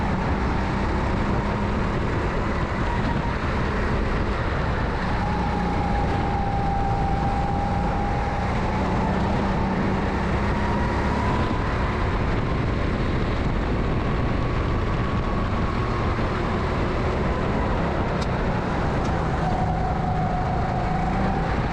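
A racing kart engine drones through a sprint race at Ampfing, a loud continuous buzzing roar with slowly shifting pitch as revs rise and fall, close and steady throughout, with no talking.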